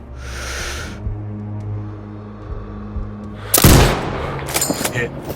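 A sniper rifle shot in Sniper Ghost Warrior Contracts 2 cracks out loud and sharp after a quiet stretch with a low game hum, followed by a few trailing impact and mechanical sounds.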